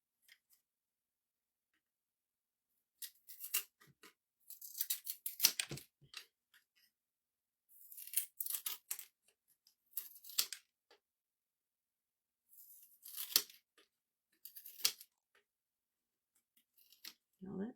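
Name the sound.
cutting small pieces off a birdhouse with cutters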